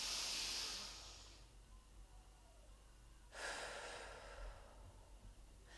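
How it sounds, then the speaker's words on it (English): Slow, soft breaths, an inhale then an exhale, taken as a singing breath exercise, airy and close with a quiet pause between them. "You can breathe in, breathe out, and check out what is gonna cost you more energy."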